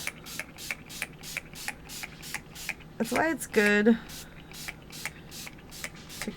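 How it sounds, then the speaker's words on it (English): An aerosol spray can hisses in short repeated bursts over paper cutouts, with a rattling shake in the middle and a voice speaking briefly. "I'm going to spray this up."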